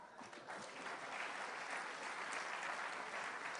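Sustained audience applause from a large congregation at a leadership sermon, a dense steady wash of clapping that swells slightly after the first half second and stays fairly distant and even.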